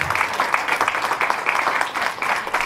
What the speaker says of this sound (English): Please, a round of applause for our mayoral candidates.